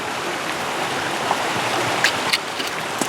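A bare creek flows steadily outdoors, a continuous rushing water wash with a few faint splashes and knocks, heard alone at moderate level.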